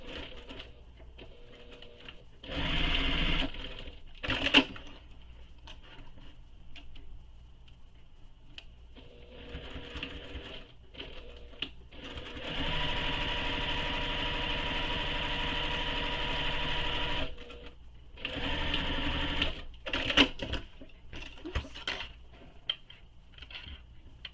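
Sewing machine stitching two long lines on an Oasis backpack, running in several bursts of steady mechanical whirring separated by quieter pauses with handling noises, the longest stretch lasting several seconds, recorded close up.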